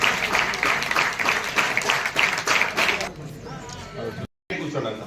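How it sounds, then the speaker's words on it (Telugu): An audience claps during an inspection meeting held by the Andhra Pradesh State Food Commission in Puttaparthi constituency, in steady dense applause for about three seconds that then thins out into murmuring and chatter. "క్లాప్స్ ఇవ్వండి ఒకసారి."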